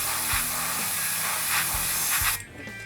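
Spray paint hisses from an aerosol can onto a Drukhari Raider miniature, one continuous near, loud burst that cuts off abruptly near the end, with a few soft low clicks underneath.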